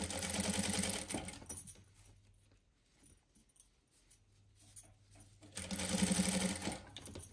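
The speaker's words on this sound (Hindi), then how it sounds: "ये फोल्ड कर दूंगी और इस पर सिलाई कर दूंगी।" An electric sewing machine stitching a velvet kurti, running in two fast whirring bursts at the start and end with a quieter pause of handling noises between, heard close with no talking.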